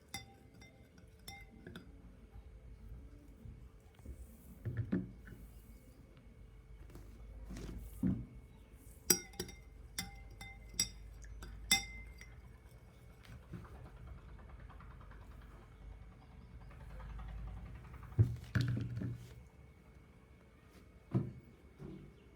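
A spoon clinks against a glass in scattered light taps, stirring on and off over a low steady hum, with quiet pauses between bursts.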